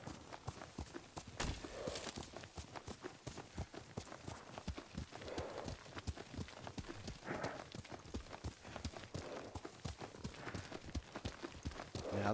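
Steady clip-clop of horse hooves at a walking pace in the video game Ghost of Tsushima, close and rhythmic throughout, with a soft ambient bed underneath and no talking.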